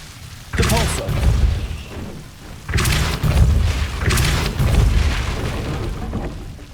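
The Depulso spell cast in Hogwarts Legacy gives two heavy booming blasts a couple of seconds apart, each trailing into a rumbling tail, with game audio between them.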